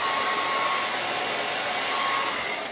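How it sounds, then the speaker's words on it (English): A hairdryer blows steadily to dry white paint on a Ball mason jar, a continuous close-up whoosh with an even drone and no breaks. "I'm gonna speed this up by hitting it with a hairdryer"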